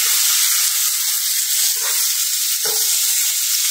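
Fish frying in a pan gives a steady, loud bright sizzle that runs throughout without a break, with a couple of short low knocks from the pan or utensil near the end.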